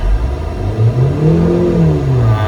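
Wuling Almaz car engine revving up as the throttle is pressed, pitch rising and falling in a smooth sweep, close and loud with a steady mechanical whir beneath and no talking.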